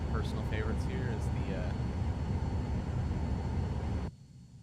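Steady, muffled cabin rumble of a simulated Cirrus SF50 Vision Jet in a flight sim, as heard through noise-cancelling headphones, with faint chirping tones over the hum before it cuts off abruptly near the end.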